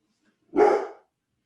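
A single dog bark sounds up close in a quiet room, one short loud burst lasting about half a second with nothing else around it.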